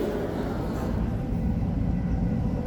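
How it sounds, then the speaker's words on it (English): Slow suburban train at a station: a steady low rumble of the train runs throughout at moderate level, with faint background sound layered above it. "The relaxed, slow suburban train that I'm taking today"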